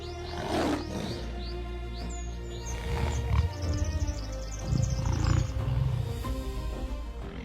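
A lion roars on the open savanna, with deep, rumbling calls rising in several loud surges over about seven seconds while birds chirp faintly in the background.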